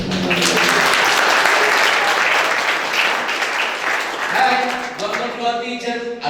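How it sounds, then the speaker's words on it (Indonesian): A hall full of teachers at a motivational seminar on the Gontor 2 campus bursts into loud, dense applause that holds steady, then thins out as a voice emerges near the end. "tepuk tangan dulu."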